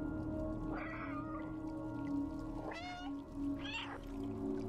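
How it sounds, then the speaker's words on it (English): Cats meow in the video game Stray: three separate meows spaced over a few seconds, moderately faint, over a steady low ambient hum. "Is he, like, hallucinating the sounds of other cats meowing?"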